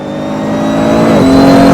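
A GT3 race car engine revs up loudly and close, its rising mechanical whine climbing steadily in pitch over a couple of seconds.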